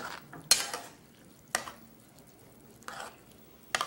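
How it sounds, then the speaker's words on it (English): A spoon clanks and scrapes against a pot four times while water is stirred in, spaced about a second apart, with quiet stirring in between. "Cup of water and stir."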